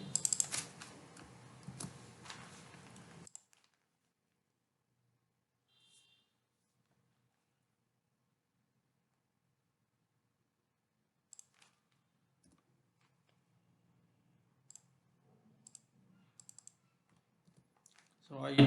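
Code is typed on a computer keyboard in a quick burst of clicking keys, followed by long near-silence broken by a few isolated faint clicks toward the end.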